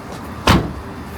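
A Nissan Skyline R34 door, fitted with R35 door stoppers, shuts once with a single sharp, loud thunk midway, briefly ringing out over a quiet outdoor background.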